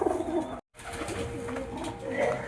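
Pigeons, one with a crest on its head, coo steadily up close through a continuous flock murmur, with a brief cut of silence partway through and faint voices in the background.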